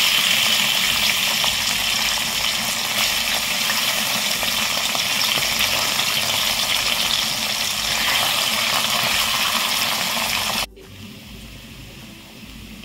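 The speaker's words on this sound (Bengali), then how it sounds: "আমি বাকি মাছগুলো একইভাবে ভেজে নিচ্ছি" Mourala fish frying in a pan of hot oil, a steady loud sizzle that fills the clip before cutting off abruptly near the end.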